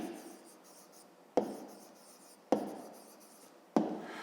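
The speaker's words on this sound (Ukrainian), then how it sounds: "Ну тепер записуємо відповідь." A pen writing down a math answer on paper, three firm taps or strokes at even intervals with faint scratching between them, close and quiet, no talking.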